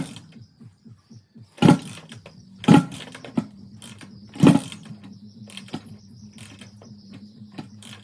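A CRF450 engine swapped into a CBR125 cranks over with a quick mechanical churning rhythm, then fires three sharp, loud backfires out of the exhaust pipe before settling into uneven cranking clicks.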